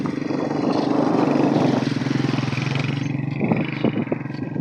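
A motorcycle passes on a road near Mirpur with a steady, rough engine drone that fades after a few seconds, leaving some light clatter and background noise.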